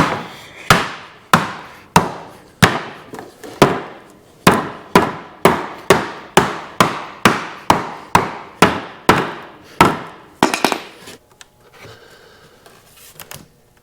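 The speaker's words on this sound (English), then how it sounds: "Let's see if a bigger hammer does a trick." Steady, heavy hammer blows from a large hammer strike wood about once every half second, loud and close, with a few lighter taps and scraping at the end.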